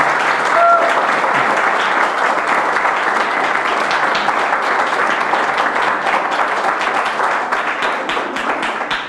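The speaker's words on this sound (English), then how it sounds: "Let's give him another round of applause." A large audience at a spiritual talk bursts into sustained, loud applause, dense steady clapping filling the room for several seconds before easing slightly at the end.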